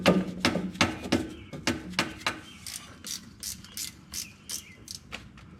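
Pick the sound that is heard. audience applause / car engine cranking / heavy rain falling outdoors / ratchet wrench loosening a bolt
ratchet wrench loosening a bolt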